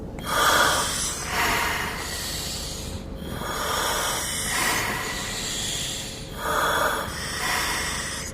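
Several slow, deep breaths repeat in a steady rhythm, each a loud airy hiss with short pauses between, close and alone.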